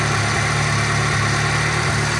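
A warm VAZ 2-litre engine idles steadily and close by with an even mechanical drone, with a faint ticking from a hydraulic lifter running through it.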